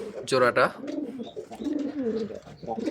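A breeding pair of pigeons, a male and a female that have laid an egg, coo in low, soft, repeated throaty calls, with a voice talking loudly over the start.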